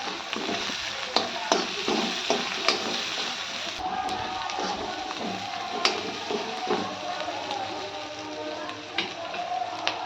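Spice masala for an egg curry is stirred and fried in a pan, a steady, fairly loud crackling sizzle with frequent small clicks from the spoon throughout.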